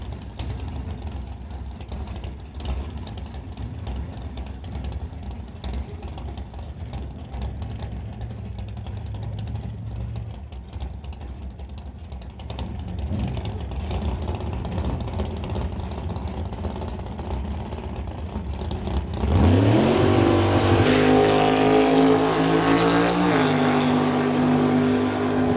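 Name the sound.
split window Corvette drag racing run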